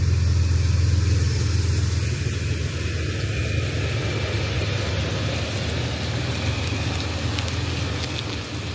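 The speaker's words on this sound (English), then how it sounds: "I'm gonna pull out the car," A Toyota FJ Cruiser with a 2-inch lift and leveling kit pulling out, its engine a steady low rumble with broadband road and wind noise, continuous and fairly loud, with no talking.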